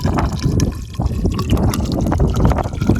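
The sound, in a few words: water topping off a plumbing test pipe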